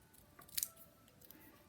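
A single quick snip of scissors cutting paper for a handmade daisy card, a short crisp cut near the middle against a quiet room, alone.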